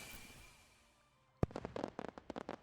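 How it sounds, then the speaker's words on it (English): Fireworks bursting outdoors at night: after a quiet stretch, one sharp bang is followed by a rapid run of crackling pops and small explosions, loud and close. "I see the fireworks"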